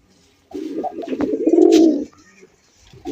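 A white golla pigeon gives a close, rolling coo lasting about a second and a half, followed by a pause, and a second coo begins just at the end.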